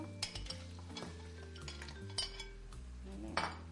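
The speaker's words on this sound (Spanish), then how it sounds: "una vez que tenemos el refritito hecho, le ponemos ya el bogavante" Chopped lobster is stirred in a pan with sofrito for a homemade rice dish: soft sizzling and frying under scattered scrapes and clinks of a utensil against the pan, with faint kitchen background.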